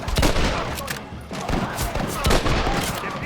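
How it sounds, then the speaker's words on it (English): Gunfire in the video game Red Dead Redemption: a dense, continuous volley of overlapping shots with booming reports, loud and close throughout, with shouted voices mixed into the battle. "Shoot them, Marston"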